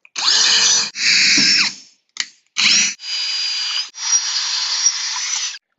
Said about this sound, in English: starting forward with your drill, and then once the center hole is drilled, reverse so that you don't